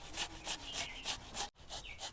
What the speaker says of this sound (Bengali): এখন তরমুজটা ঘষে ঘষে রসটা বাইর করে নিব।